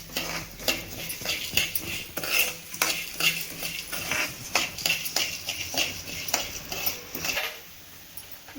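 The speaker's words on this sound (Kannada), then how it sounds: "ಕೊತ್ತಂಬರಿ ಘಮ ಬರೋವರೆಗೂ ಹುರಿಬೇಕು ಚೆನ್ನಾಗಿ" Coriander seeds are dry-roasted in a pan while being stirred, producing a steady run of rhythmic scraping and rattling strokes with a faint sizzle underneath, close and fairly loud, with no talking.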